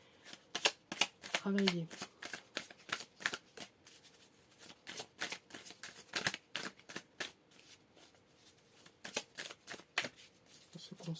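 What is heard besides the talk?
shuffling tarot cards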